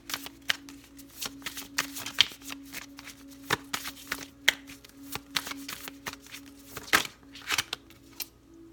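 Tarot animal oracle cards are shuffled by hand, giving a rapid run of crisp paper riffles and flicks, close and fairly soft, continuing steadily with no talk.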